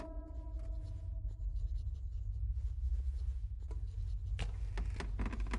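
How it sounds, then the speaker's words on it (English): Scrubbing on a display case in a video game, a steady close rubbing and scratching texture that runs through the whole stretch and grows harsher near the end, with no talk. "I was just removing an ugly stain from our display case."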